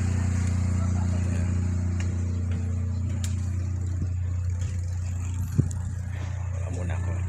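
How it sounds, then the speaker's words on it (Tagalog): A large vehicle's engine runs in a steady, loud, low drone close by while it is moved, with a brief knock partway through and faint voices in the background. "tatanggalin ko yung sasakyang malaki na sa harap."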